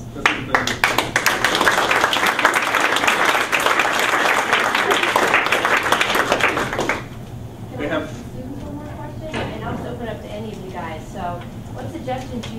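Audience applause for middle school students, loud dense clapping from a crowd that lasts about seven seconds and then stops abruptly, followed by a voice talking in a quieter room.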